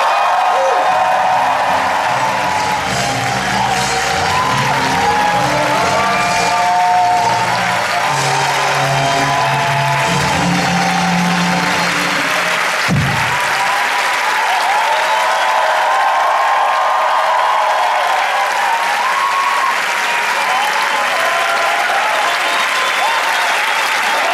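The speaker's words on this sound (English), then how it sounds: "Please give a round of applause" Sustained applause from an audience at the opening ceremony of an international congress in Moscow, a dense, loud clapping that runs for over twenty seconds, with a voice briefly heard over it near the start.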